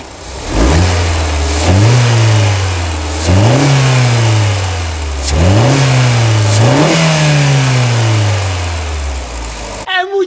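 A Fiat Toro's e-torque Evo engine is revved hard about four times, each loud, close blip sweeping up and sliding back toward idle before the next, and it settles into a steady idle at the end.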